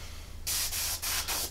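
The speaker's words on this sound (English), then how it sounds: "bit of airbrush cleaner, just a little bit, just to see it spraying" Airbrush spraying airbrush cleaner in three short, loud hissing bursts separated by brief pauses, following a quiet lead-in with low background hum.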